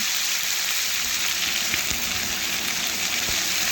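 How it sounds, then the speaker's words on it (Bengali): Mixed vegetables with pumpkin, potato, green beans and carrot, seasoned with ginger, cumin and green chilli paste, frying steadily in a pan, a close continuous sizzle with occasional soft stirring knocks. "এখন সমস্ত কিছু উপকরণ ভালোভাবে নাড়াচাড়া করে মিশিয়ে সবজি একটু ভেজে নিচ্ছি"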